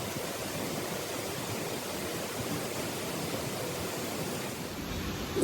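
Amida-ga-taki waterfall at Hakusan Shrine in Gifu pours as a dense, steady roar of falling water, a constant broadband rush with no breaks, heard from a moderate distance.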